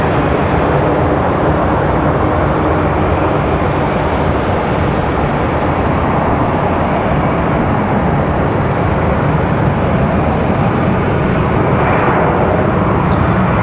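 An airliner departs Raleigh Durham International Airport bound for JFK, its steady broad jet roar staying loud and constant throughout, with no speech.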